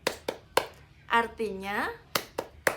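Sharp hand claps mark the rhythm of a classroom clap song for Surah An-Nas: a few evenly spaced claps, then a short spoken phrase, then more claps, all close and crisp.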